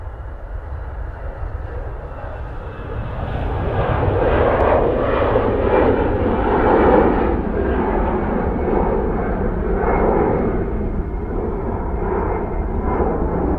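An airplane departs from Manchester Airport, its jet roar swelling gradually and holding as a broad, steady rumble at moderate distance, with no voices.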